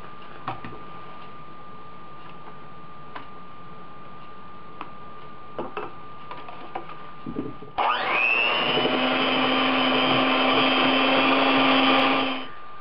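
An electric mixer whirs steadily through cream cheese, butter and vanilla extract for about five seconds, loud and close, after quieter kitchen ticks and clatter.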